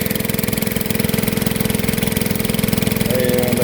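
A gasoline engine drives a dredge pump nearby, a steady, fast-pulsing running note that holds loud and even, then picks up slightly near the end.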